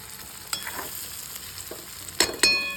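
Onion and garlic stirred in a frying pan while making stuffed kantola curry, with a low steady sizzle under scattered scraping clinks of the spoon and a couple of louder knocks near the end.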